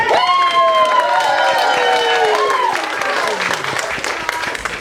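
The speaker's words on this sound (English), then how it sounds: "Round of applause for our volunteer." Audience applause for a volunteer at a folk tale show with toys, clapping and some cheering under a loud, sliding tonal sound that dominates the start and fades, with voices mixed in.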